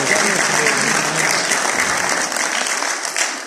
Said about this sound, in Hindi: जरा एक दफा आसमा भट्ट साहबा के लिए बहुत सारी तालियां बजाइए